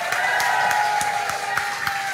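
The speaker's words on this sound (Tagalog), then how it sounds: "Sabong malakas ulit ng palakpakan para sa Panginoon na may kasamang sigawan." A church worship congregation claps in a steady rhythm, sharp unison claps roughly three per second over a sustained held musical tone, with a general crowd murmur behind.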